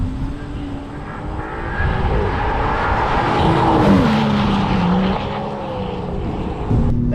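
A new Aston Martin Vanquish accelerates hard in Sport Plus mode, its engine note rising and falling through gear changes, loud and close, with no talking.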